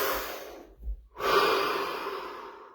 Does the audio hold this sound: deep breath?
yes